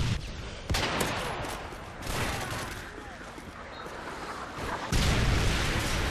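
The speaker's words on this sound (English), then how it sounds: "Did you see that? That was my" A grenade explosion in Modern Warfare 3 multiplayer booms through a busy battle soundscape of scattered gunfire, with one heavy blast near the end, while a voice talks over the action.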